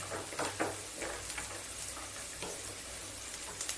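Onion, garlic, ginger and cashews sauté in a pan, giving a steady soft sizzle with faint stirring scrapes and occasional light ticks, fairly quiet and close with no talking.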